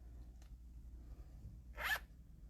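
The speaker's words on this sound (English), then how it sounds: "And it zips and everything." A zipper on a newly sewn, lined item is pulled once in a quick, close, crisp rasp near the end, with a faint earlier rustle and a low room hum underneath.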